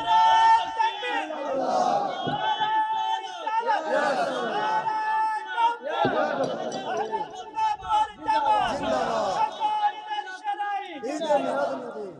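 A large crowd at a religious gathering shouts in unison, loud, repeated surges of massed voices chanting takbir, filling the space close and continuous.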